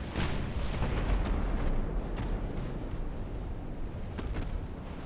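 Deep, rumbling naval gunfire and explosions in the warship game Ultimate Admiral: Dreadnoughts, a continuous roar of heavy booms with a few sharper blasts standing out, fairly quiet overall and with no one talking.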